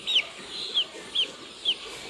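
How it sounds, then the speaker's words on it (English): One-month-old chicks on a poultry farm give four short, high peeping chirps at an even pace against a quiet background. "Very healthy looking chicks."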